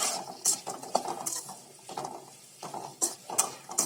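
Ivy gourd (kovakkai) sautéing in an oiled pan, the spatula scraping and stirring in repeated rhythmic strokes with a faint sizzle underneath, close and steady.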